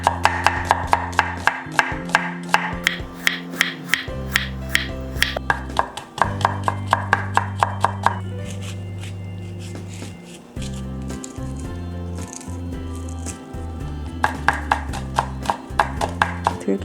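Mushrooms are cut into thick slices with a knife on a board, a quick run of crisp rhythmic chops that pauses briefly and then resumes, over a steady low hum.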